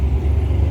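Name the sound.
tuk-tuk ride through Varanasi traffic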